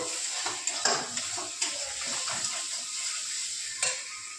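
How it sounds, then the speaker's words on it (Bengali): Spices sautéed in a pan for a spiny gourd curry, with a steady close sizzle and frying hiss, and several sharp scrapes and clinks of a spoon against the pan. "এবার মশলাগুলোকে আমি ভালো করে কষিয়ে নেব।"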